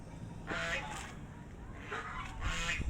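A pet goose honks in loud, raspy bursts: a pair of calls near the start, then two more after a pause, close by with no talking.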